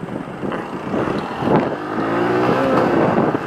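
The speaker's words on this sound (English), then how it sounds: "First gear, and go!" A Honda Super Cub 110cc postie motorcycle accelerates in first gear, its engine note rising steadily and loud over a few seconds, with no talking.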